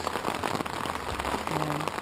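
Rain falling on a tent during a wet spell of weather in Belgium, a dense steady patter of drops that fills the whole clip at a close, constant level with no voices.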